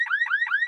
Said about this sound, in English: This is the sound of trying to unlock the wrong car.